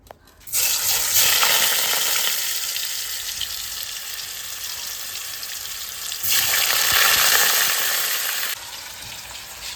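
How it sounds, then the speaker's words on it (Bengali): Pieces of packaged paneer going into hot oil, a loud, dense sizzle that starts abruptly, dips briefly and surges again before easing, close up with no speech. "এখন পনিরগুলোকে ভাজবো তেলটা গরম হয়ে গেছে"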